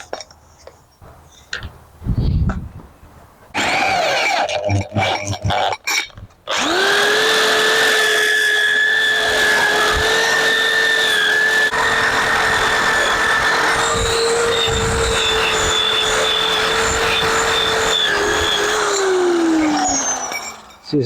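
A Dremel rotary tool carves a large wood spirit, whining steadily at high speed for over ten seconds with shifting pitch as it bites into the wood, then spinning down; scraping and handling noises precede it.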